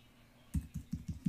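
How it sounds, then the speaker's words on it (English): Web address typed on a computer keyboard, a short run of five or six soft, close keystrokes after a moment of near silence, with no speech. "I'm going to type it in"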